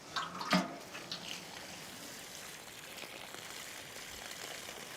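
Water pours steadily onto the soil around a newly planted Japanese anemone in a dry, shady garden bed, a soft continuous outdoor splashing with a brief stronger gush at the start.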